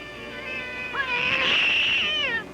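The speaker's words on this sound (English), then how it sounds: "Those lousy cats." A cat gives a long, wavering, drawn-out meow that rises and swells to a loud peak before trailing off, close and clear, with no talking over it.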